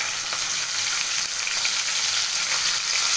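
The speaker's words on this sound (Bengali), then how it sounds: "এই মোরলা মাছের ভাজাগুলো ছেড়ে দেবো।" Mourala fish paturi wrapped in banana leaf frying in plenty of hot oil, giving a loud, dense, continuous sizzle that holds steady throughout with no voices.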